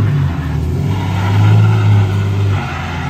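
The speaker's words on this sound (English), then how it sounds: "you can hear the tire starting to squeal" A race car on a dirt track revs and drives with a loud, close engine roar that swells and eases over a few seconds; a tire squeal is not clearly separable in the steady engine noise.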